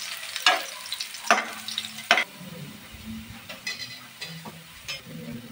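Chopped garlic and ginger frying in a pan for spicy chicken, with scraping stir strokes at irregular intervals over a steady low sizzle, close and moderately loud, no talking.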